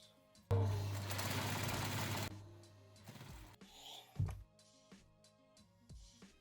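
A sewing machine hems a thrifted shirt in one loud, steady stitching burst of about two seconds, followed by softer clicks and handling noises as the fabric is adjusted.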